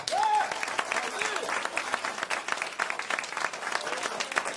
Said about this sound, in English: I need you to help me by a round of applause.